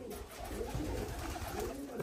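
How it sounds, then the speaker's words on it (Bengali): Pigeons coo softly, including a visiting pigeon, low throaty murmurs rising and falling at close range against a faint background hum, brief and quiet. "খালি দুইটা কবুতর আছে, অতিথি কবুতরটা আর একটা এই যে ওই পাশে"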